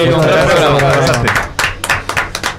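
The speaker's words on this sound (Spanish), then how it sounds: "Un aplauso" Applause from a live radio-studio audience in Chile after a travelling guitarist's set, starting over a loud mix of voices and music, then thinning into scattered, separate claps near the close.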